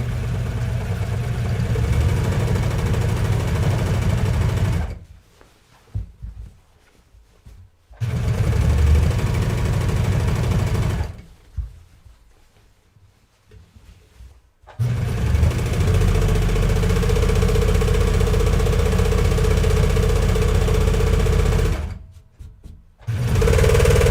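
A serger runs along the front seam of jeans in three loud, steady bursts of fast mechanical whirring, each lasting several seconds, separated by short quiet pauses while the fabric is repositioned.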